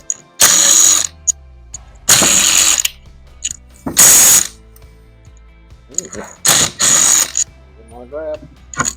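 Ratchet wrench clicking in several loud close bursts while backing out the clutch side bolts on a Warrior 350, with short pauses and small metallic clinks between runs.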